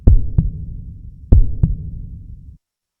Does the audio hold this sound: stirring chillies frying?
no